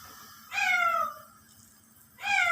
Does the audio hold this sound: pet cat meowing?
yes